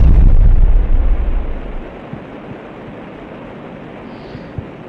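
A frag grenade goes off in an Unreal Engine 5 video game, a loud low boom that rolls on for about two seconds before decaying into a quiet rumbling tail, with no voices.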